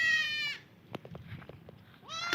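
Goats on a farm bleating loudly and close, one long wavering bleat at the start and another rising at the end, with soft knocks and shuffling between them.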